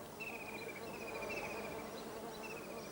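Honeybees buzz around wild bug orchids and fan-lipped orchids in a steady, faint outdoor hum, with high insect whines drifting through over a constant background hiss.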